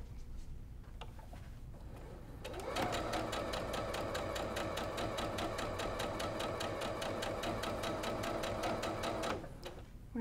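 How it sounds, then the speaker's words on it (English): A sewing machine chain piecing quilt block fabric runs steadily at close range for about seven seconds, a fast even stitching rattle that starts abruptly and stops near the end, with quieter handling noise before and after. "We're just going to keep sewing, keep chain piecing."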